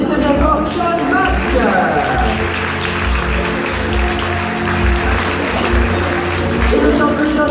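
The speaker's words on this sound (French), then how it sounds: "vous applaudissez bien fort John Mack" A seated audience at a hypnosis show in Bayonne claps for the hypnotist, scattered hands mixing with thumping rhythmic beats while a voice talks over the room.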